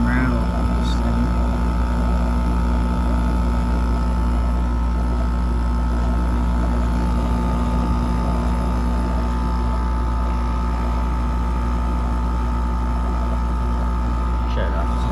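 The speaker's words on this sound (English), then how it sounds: "Compressor's making everything rattle on this thing." A Kenmore 5,000 BTU window air conditioner compressor runs with a steady low hum and constant rattling buzz, loud and close throughout.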